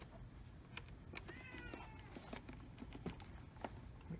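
A house cat meows once or twice at close range over a low, steady background hum, with faint tapping around it and no speech.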